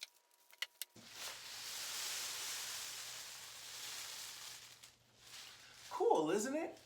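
A homemade paper rain stick being tipped gives a steady soft hiss of trickling bits for several seconds, like falling rain, fading briefly before a louder rustling burst near the end.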